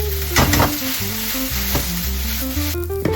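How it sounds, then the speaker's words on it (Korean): Rice tossed with oyster sauce in a pan over high heat, a loud, constant sizzling with stirring and scraping, heard over stepping background music. "굴소스 그 센 불로 확 빠르게 볶아줘요"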